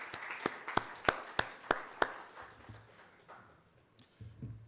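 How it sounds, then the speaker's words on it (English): Applause at a conference panel in which a few sharp, distinct hand claps stand out at first, then fade into scattered, thinning clapping with faint room noise. "I believe they deserve a round of applause"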